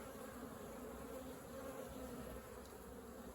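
Honeybees hum in a steady, unbroken drone at an open hive from a colony that had been swarming, soft and continuous throughout with no voices.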